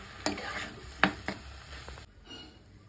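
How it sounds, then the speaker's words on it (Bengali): Leftover rice being fried with vegetables in a pan, with a close sizzle and a few sharp spatula scrapes and knocks, fading quieter near the end. "এবার ভালো করে ভেজে নেব"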